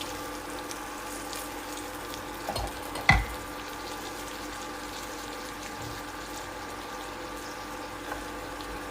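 Vegetable chutney sizzling steadily in a pan after a splash of water from the rinsed grinder jar goes in, with a brief louder burst near the start over a continuous low fry.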